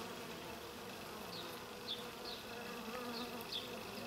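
Bees attacking a hornet make a faint, steady buzz with a few sharper passes of wingbeats over low background hum.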